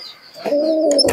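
Giribaz pigeons give a soft, steady coo that swells and holds for about a second, close by and alone, with a brief flutter at the end.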